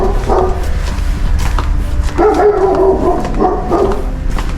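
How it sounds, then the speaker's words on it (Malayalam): A dog barks several times close by in short, loud bursts over steady background rumble, with no clear talk. "ഈ പട്ടി എന്താ ഇങ്ങനെ കിടന്ന് പറിക്കുന്നത്?"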